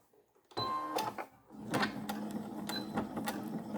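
A sewing machine stitches a fabric face mask close by, with a whirring run broken by sharp rhythmic clicks after a quiet start.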